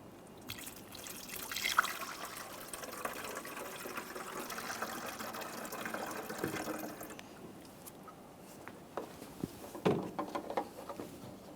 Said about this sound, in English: to add coolant, I'm just going to use a funnel.